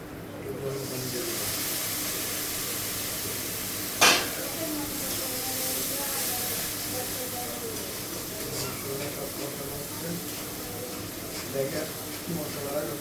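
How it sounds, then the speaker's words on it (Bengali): Spices sautéing in a pan for minced beef, giving a steady frying hiss and sizzle with a sharp scrape of stirring partway through, under a person talking. "এই যে মশলা কষাচ্ছি দেখেন"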